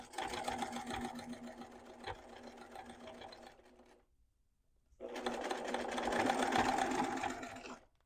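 Sewing machine stitching a curved quarter-inch seam on a fabric love letter pouch, running steadily in two long bursts with a short pause between, close and fairly loud.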